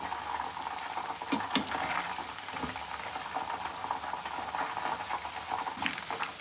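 Meal maker Manchurian pieces frying in hot oil, a steady close crackling sizzle with bubbling throughout and a few louder pops, no voices.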